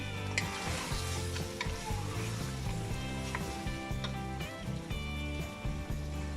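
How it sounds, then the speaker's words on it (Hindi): Chicken frying with green chillies and tomatoes in a pan, a steady close sizzle broken by repeated scraping stir strokes, with no one talking. "आपने इनको अच्छी तरह से चिकन के साथ भूनना है"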